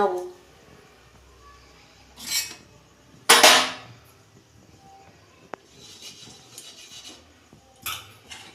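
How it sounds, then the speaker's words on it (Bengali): A lid comes off a kadai (wok) while chitoi pitha cook, giving short metallic clatters and one bright scrape-clang, followed by softer rustles and clinks. "দেখুন বন্ধুরা আমি ঢাকনা খুলছি"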